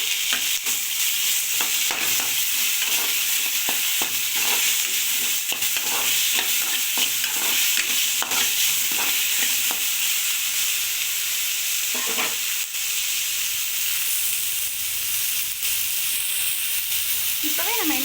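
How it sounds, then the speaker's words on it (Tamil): Tomatoes sizzle loudly and steadily in a hot pan while a utensil stirs and scrapes in irregular strokes, close by with no speech. "அதுக்கப்புறம் நம்ம நறுக்கி வச்சுருக்க தக்காளியை போட்டு வதக்குங்க"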